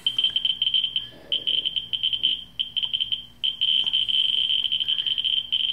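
A Ludlum Model 3 radiation survey meter, held near radioactive torbernite/kasolite, chirps in rapid, uneven bursts of high-pitched clicks, sometimes merging into a near-continuous tone, close and fairly loud.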